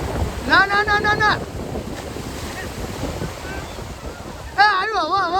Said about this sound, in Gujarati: એ આવ્યું હવા